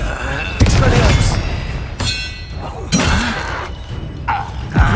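Expelliarmus spell cast during combat in the video game Hogwarts Legacy, a loud sharp magical burst with a shattering impact, one of several blasts spaced across the moment amid a busy spell-fight soundscape.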